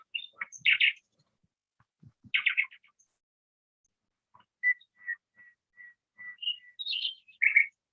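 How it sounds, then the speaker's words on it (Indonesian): A recording of nightingale song: clear bursts of chirps alternate with short whistled notes, heard alone and close with silent gaps between phrases. "Apa namanya? Burung andalib."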